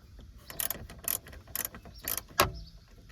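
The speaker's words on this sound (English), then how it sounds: "Now find your 10mm socket, ratchet like this also, and there one bolt here" Ratchet clicks from a 10mm socket turning out bolts on a Toyota RAV4 interior, with several short bursts of close mechanical clicking spaced across a quiet background and one sharper metallic snap near the end.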